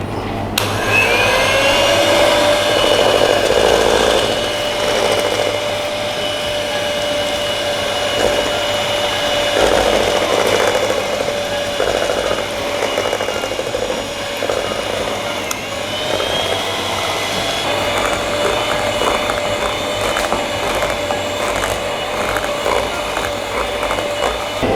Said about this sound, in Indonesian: kita mulai mixer.